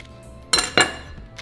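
Stuffed chilaquiles dough is sliced in half, two quick sharp knife strikes clacking against the board in close succession, close and fairly loud over a quiet kitchen.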